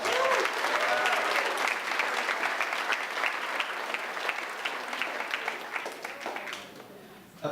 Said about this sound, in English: one more round of applause for our student speakers